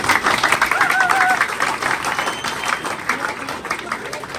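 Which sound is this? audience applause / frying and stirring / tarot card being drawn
audience applause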